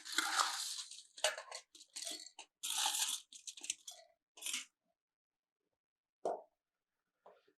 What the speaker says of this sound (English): we are going to add our ice